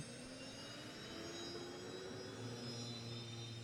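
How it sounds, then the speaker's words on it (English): Unlimited hydroplane racing boats run their turbine engines with a steady, distant jet-like whine and roar, heading out onto the course for a heat race at Bayfair, with no talk. "Our unlimited hydroplanes heading out."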